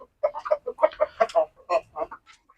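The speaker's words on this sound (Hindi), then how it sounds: "वो मुर्गियां अंडा देने के लिए जा रही हैं" Hens clucking on a home desi chicken farm, a run of short repeated clucks and calls from a few birds nearby, fairly close and clear with no talking.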